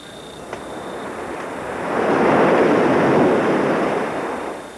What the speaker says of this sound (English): you'll find that the sea is never far away. If you can't see it, then you'll hear it.